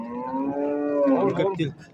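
A calf at the Kungrad livestock market gives one loud, close, drawn-out moo lasting about two seconds, rising and breaking at the end.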